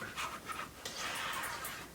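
A dog panting close by in a room, a steady run of quick breathy puffs lasting a couple of seconds, faint and with no talking over it.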